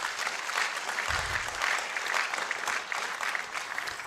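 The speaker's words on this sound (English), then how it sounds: "Again, could deserve a round of applause." Sustained audience applause fills the room at a university distance education awards ceremony, a steady dense clatter of many hands clapping at moderate volume with no speech over it.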